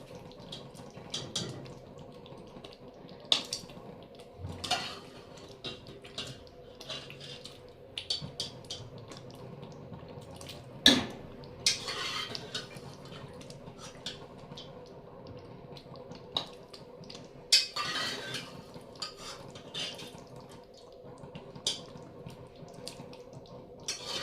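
Cooked mutton going into a pot of spicy gravy, with a series of wet, sloppy plops and splashes scattered irregularly, close and fairly quiet against a low steady background.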